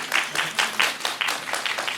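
An audience claps for a film director and actors at a press conference after a Korean movie screening, with a rhythmic burst of close, loud applause in quick pulses.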